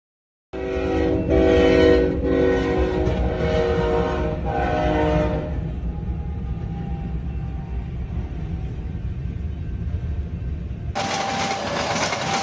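A moving train blows several loud horn blasts in quick succession over a heavy rumble, then rolls on steadily before a sudden burst of louder noise near the end.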